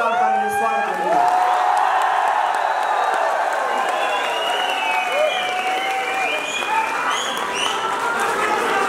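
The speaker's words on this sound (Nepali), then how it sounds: "राष्ट्रिय स्वतन्त्र पार्टीलाई जोरदार तालीले स्वागत गर्छु" A crowd at a political party launch gives sustained loud applause and cheering, dense clapping throughout with shouts and whoops rising over it.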